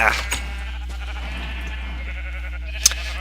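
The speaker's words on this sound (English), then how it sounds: "Lots of multicolored sheep and cows" Sheep bleat repeatedly in Minecraft over a constant low hum, several overlapping animal calls at moderate distance.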